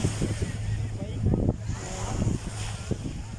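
Strong sea waves at the Kuwait City seaside on a windy, overcast day, a continuous rushing surf with wind noise, while someone talks over it.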